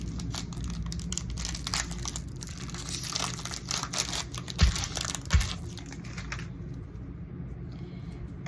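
A trading card pack wrapper, the last pack of an NBA card opening, crinkles and tears in sustained rustling bursts close to the mic, with a couple of sharper rips partway through before it quiets.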